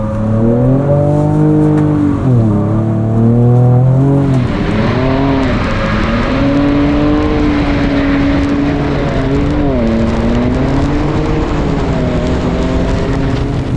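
A 2024 Ford Ranger Raptor drifts on a race track, its engine droning close and loud with rising and falling revs through shifts and transitions, a sustained growl with no voices.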